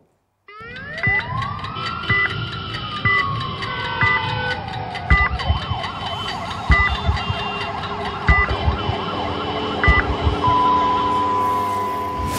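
A loud ambulance siren wails and then switches to a rapid warble in Indian traffic, with traffic rumbling underneath and a voice faintly in the mix.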